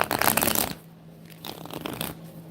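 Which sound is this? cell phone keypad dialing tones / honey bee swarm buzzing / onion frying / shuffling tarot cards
shuffling tarot cards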